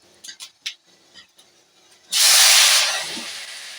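After a few small clicks and taps, tamarind water hits a hot pan with a sudden loud sizzle that gradually softens but keeps hissing.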